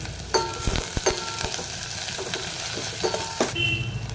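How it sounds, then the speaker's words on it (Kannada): Onion, curry leaves and a dry red chili sizzle in hot oil for a tempering, a steady close crackling fry with occasional stirring clicks and no talk. "ಈರುಳ್ಳಿ ಹಾಕ್ತಾಯಿದ್ದೀನಿ ಕರಿಬೇವಿನ ಸೊಪ್ಪು ಇದ್ದೀನಿ ಒಂದು ಒಣಮೆಣಸಿನ್ಕಾಯಿ ಹಾಕ್ತಾ ಇದ್ದೀನಿ"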